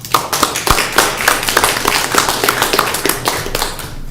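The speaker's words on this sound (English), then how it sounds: "give them a round of applause" A small group claps at a city council special meeting in Paris, a short, fairly close round of distinct hand claps with an uneven rhythm and no talk over it.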